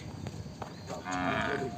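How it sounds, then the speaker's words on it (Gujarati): A cow moos once, a drawn-out low call that rises in the second half, heard nearby outdoors after a few faint rustles. "અમારી સાથે રનિંગ કરતી ગાય"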